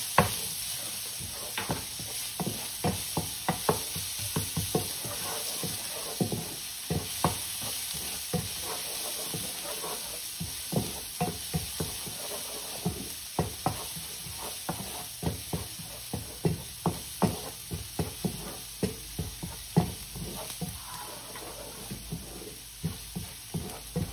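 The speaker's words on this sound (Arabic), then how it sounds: "شوف ذابت عندي السمنة، الحين ننزل الثوم." Garlic frying in melted ghee gives a steady sizzle under repeated stirring and scraping clicks of a utensil against the pan, close and continuous with no talk.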